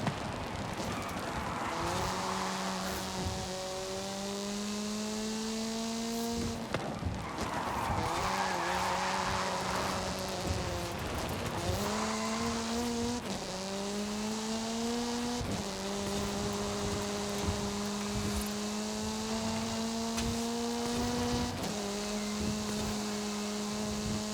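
A utility van engine in a racing game revs up and down as the throttle is repeatedly opened and eased. The engine note climbs in several rising sweeps between shifts, loud and close, with tire squeal mixed in.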